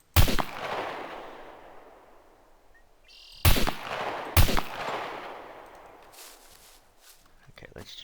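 Three sharp gunshots from the survival video game Scum, the first alone, then two more close together a few seconds later, each loud with a decaying tail over quiet outdoor ambience.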